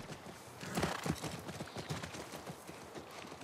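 Horse hooves clip-clopping at a ranch corral in the video game The Last of Us, a moderate run of soft hoofbeats over a dense background bed, with no talk.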